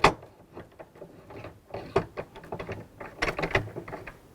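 A clamp with a post fitted onto a table rail for a Rultract retractor system, giving a close series of sharp metallic clicks and ratcheting knocks over about four seconds, with no talking.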